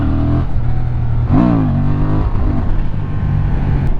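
A Honda Transalp 750cc motorcycle engine idles with a steady low drone, then climbs in a brief, rising rev and falls back to a steady hum, heard up close with no talking.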